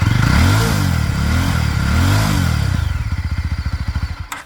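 Yezdi Roadster 350 motorcycle engine cranks and fires up, then revs in loud rising and falling swells before settling into a deep, rapid idle thump, close by with no talking.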